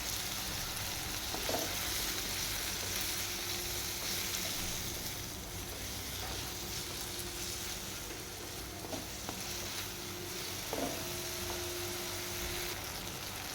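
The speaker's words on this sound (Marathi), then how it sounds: "तर थोडासा मऊ करून घेऊया टोमॅटो आपण तर टोमॅटो लवकर मऊ होण्यासाठी त्यात मीठ आणि हळद" Tomatoes with salt and turmeric fry in a pan in a home kitchen, giving a steady, even sizzle throughout, quiet and close, with a few soft scrapes of stirring.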